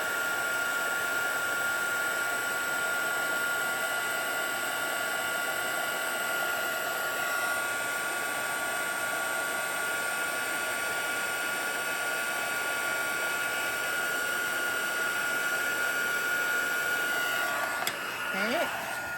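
A heat tool blows hot air over a holiday craft project, a steady, loud whirring hiss that holds unbroken for the whole stretch, with a small knock near the end.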